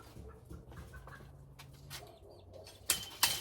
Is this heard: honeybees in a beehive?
no